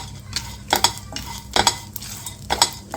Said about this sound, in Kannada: ಸನ್ಫ್ಲವರ್ ಸೀಡ್ಸ್ ಹಾಕ್ಕೊಂಡಿದ್ದೀನಿ. ಅದನ್ನು ಲೈಟಾಗಿ ಬಿಸಿ ಮಾಡ್ಕೊಳ್ಳೋಣ.